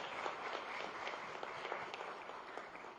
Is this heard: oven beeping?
no